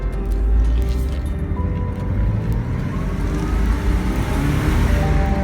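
A 2000 Porsche Boxster's engine drones low and steady while driving at very slow speed, with constant road and cabin rumble and no clear revving.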